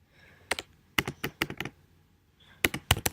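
Keys on a Mac computer keyboard click close and crisp in quick clusters as a script is typed, with a pause in the middle before a final flurry of strokes; no voices.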